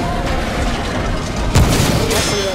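Gunfire and heavy booming blasts in the video game Remnant: From the Ashes, a sustained loud mix with a sharp impact midway, under a player's voice talking.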